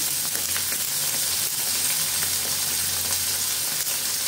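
Brinjal and field beans (mochai) sautéing in a hot pan, a steady close sizzle and crackle with faint stirring scrapes throughout, no speech.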